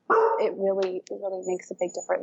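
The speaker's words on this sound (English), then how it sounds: "Sorry, that's my dog." A dog barks and yips in short bursts behind a person who keeps talking, the animal's calls mixed in with the voice at close range.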